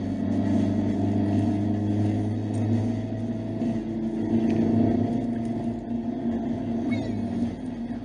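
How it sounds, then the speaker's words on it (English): Car engine braking down a hill in second gear, a loud, steady low rumble with a droning hum that holds throughout. "I'm in second gear, engine braking my way down the hill."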